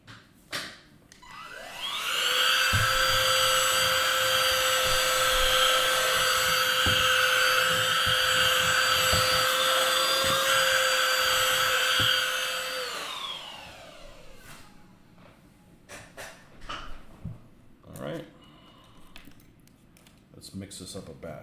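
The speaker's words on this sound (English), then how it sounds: "I guess I should vacuum again" A vacuum cleaner starts up and whines steadily for about ten seconds, close and loud, then shuts off and winds down, followed by scattered knocks and handling sounds.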